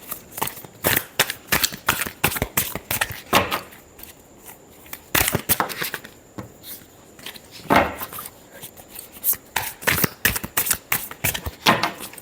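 Tarot cards being shuffled by hand during a Scorpio reading, a rapid run of crisp papery riffles and taps with brief pauses between bursts, close and fairly loud, with no voice over it.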